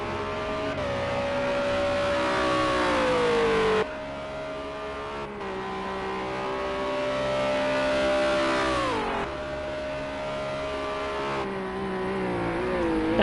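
A Renault RS01 race car engine screams around Imola in Project Cars 2, a sustained high-pitched whine that rises through each gear and drops sharply at every upshift, loud and steady with no voices.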